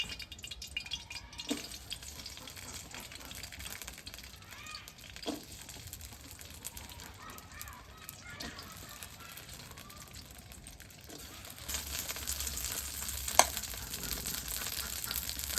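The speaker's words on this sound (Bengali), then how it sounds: "কাঁচামরিচটি আগে ভেজে নেব।" Green chilies frying in oil in a wok make a faint, light sizzle with occasional stirring clinks. The sizzle grows louder and denser toward the end.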